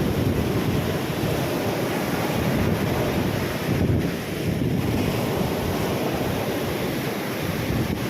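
Big waves of a rough sea during a typhoon, a continuous roaring wash of surf and wind buffeting the microphone, loud and steady without pause.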